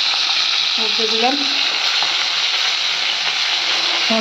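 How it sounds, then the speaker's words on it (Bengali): Fish fries in a pan with a loud, steady, close sizzle. A faint voice murmurs briefly near the start. "মাছটা ভাজা হোক"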